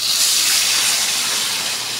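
Hot water poured into a cooking pot for a soupy home-cooked dish, a steady close gushing stream that runs evenly throughout with no talking.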